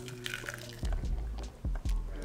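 A thick smoothie pours from a blender jar into a glass, giving soft liquid glugs and a few low splashing plops, close and fairly quiet.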